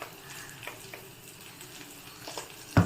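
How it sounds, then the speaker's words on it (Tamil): Onions sauté quietly in a pan with a soft, low sizzle and a few light stirring scrapes, ending with a louder clunk of a utensil; the sound is faint and close, with no talking. "இப்போது வெங்காயம் வதங்கிறதுக்கு கொஞ்சமாக உப்பு போடலாம்"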